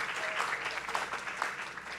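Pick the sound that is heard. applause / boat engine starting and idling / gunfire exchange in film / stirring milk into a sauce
applause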